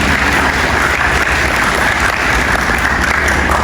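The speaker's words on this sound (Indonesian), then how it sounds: "Tepuk tangan lagi untuk itu." Audience applause fills a discussion and socialization event held by a veterans' organization in Batam, Riau Islands, as a crowd claps steadily and densely throughout, close and loud with no pause.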